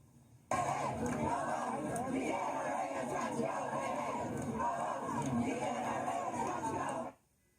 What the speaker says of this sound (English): Who needs Homer in history when you can get credit for screaming